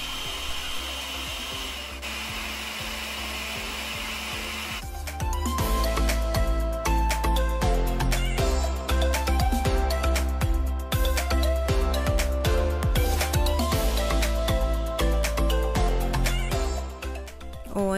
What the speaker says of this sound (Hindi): इसमें मैं डालूँगी थोड़ा सा हनी और उसको ब्लेंड कर लूँगी अच्छे से